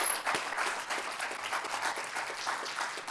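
A church congregation claps together in a dense, continuous round of applause, fairly loud and even throughout.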